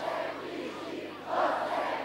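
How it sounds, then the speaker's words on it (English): A crowd shouts in unison during the December 1989 Timisoara uprising in Romania, a massed roar of voices that swells louder in its second half, distant and reverberant. "We have no fear, they shouted, proud of their fight, even of their dead."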